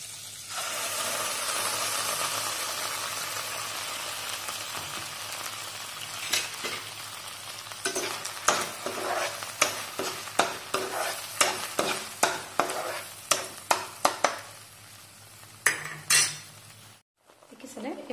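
Spice paste frying in melted butter in a kadai for paneer butter masala. A loud burst of sizzling opens, then a rhythmic series of metal spatula scrapes and clanks against the pan runs over the hiss before it cuts off.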